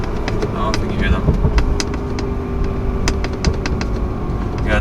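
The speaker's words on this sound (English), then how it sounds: "This is one thing I like about this too, the burbles." A tuned BMW F30 330i exhaust crackles and pops in sharp, irregular bursts over a steady, close engine rumble.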